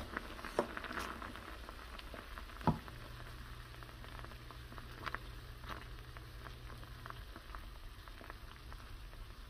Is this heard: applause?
no